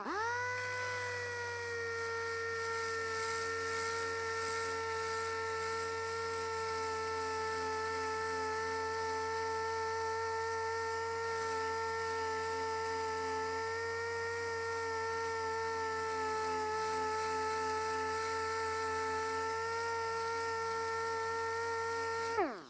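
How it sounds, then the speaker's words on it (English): A DA sander turned down to reduced speed works over stainless steel trim, giving a steady, close, continuous whine with a constant pitch and motor hum that runs unbroken throughout, no talk. "I'll take the DA sander and we will turn the speed down a little bit"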